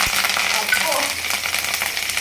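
Tempering seeds, finely chopped green chillies and curry leaves sizzle and crackle steadily in hot oil with cinnamon and cloves in a pan for a potato and chana dal curry, a loud continuous frying hiss alone.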